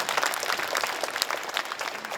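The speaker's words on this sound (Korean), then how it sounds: "다시 한번 감사의 박수를 부탁드리도록 하겠습니다" Steady applause from a seated audience at a Korean unification memorial ceremony, a thick, even patter of many hands clapping at close-to-mid distance with no break across the whole stretch.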